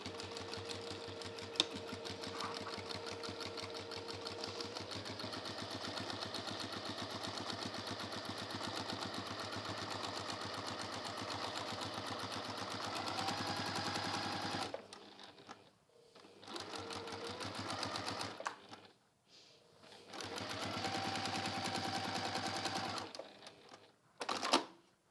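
A sewing machine topstitches a fabric bag, running in a long steady whirring burst close up, then stopping and restarting in a few shorter runs near the end.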